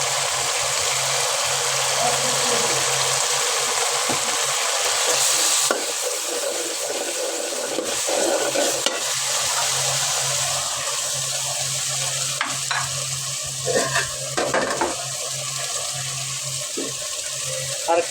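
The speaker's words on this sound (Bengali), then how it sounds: "তো এই মশলাটা কিন্তু ভালো করে কষাতে হবে।" Chilli and spice masala for chicken curry fries with a little water in a pan, a steady close hiss and sizzle running throughout, broken by scraping stirs and utensil knocks toward the end.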